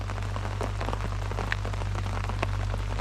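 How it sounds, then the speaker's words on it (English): Heavy rain pours down steadily outdoors at a fishing spot, a dense continuous hiss of drops with scattered louder pattering hits, close and loud, with a steady low hum beneath and no talk. "Get the rods back out in this beautiful rain, pissing it down."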